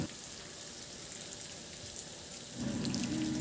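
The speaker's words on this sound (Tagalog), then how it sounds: "Iprito ko na rin yung 3 pirasong isdang bisugo" Three bisugo fish dropped into hot oil in a pan, a soft background hiss that swells into a louder, steady sizzle partway through, heard alone without talking.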